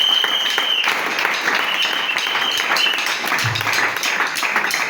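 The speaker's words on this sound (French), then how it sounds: "Nous pouvons acclamer pour la parole" Sustained audience applause fills a church gathering, dense and steady clapping throughout with cheering texture and no speech over it.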